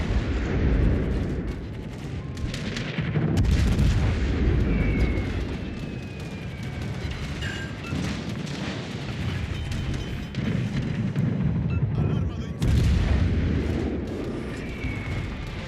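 Naval gunfire in World of Warships Legends, with Spanish cruisers and a Bismarck in battle: repeated heavy booming salvos and blasts roll over a constant rumbling din, loud and close, with no clear speech.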